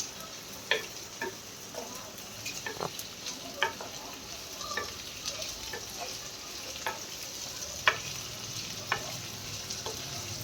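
Capsicum and large onions stir-fry for chilli paneer with a soft, constant sizzle, broken by frequent sharp clicks and taps of a spatula against the pan.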